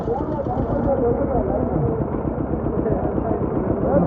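A tractor engine drones and idles loudly close by with a low rumbling throb, running continuously throughout, at a trolley-pulling tournament.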